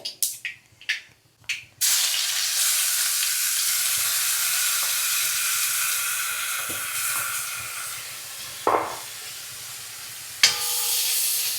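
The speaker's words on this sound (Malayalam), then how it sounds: "അതേതായാലും ഗുണമായി കടുക് പൊട്ടണുണ്ട" Mustard seeds spluttering in hot oil in a home kitchen, a loud steady hiss and sizzle that starts suddenly after a few knocks and carries on with occasional pops.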